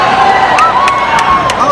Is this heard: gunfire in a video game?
no